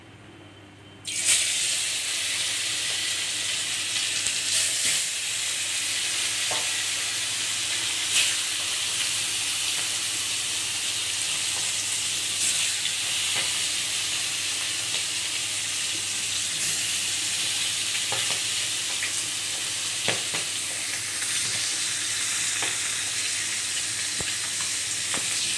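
Fish pieces hit hot oil in a pan and break into a loud, sustained frying sizzle with crackling pops, close and continuous throughout without speech.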